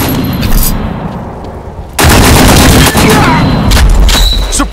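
Automatic gunfire rattles in a World War II video game death match, dense overlapping bursts that grow louder and fuller halfway through and keep going in rapid volleys, with shouted voices under the shooting.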